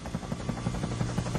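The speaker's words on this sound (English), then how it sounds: "Then Harold the helicopter arrived." Cartoon helicopter arriving, a steady rotor whir with rhythmic chopping pulses repeating several times a second, loud and close throughout.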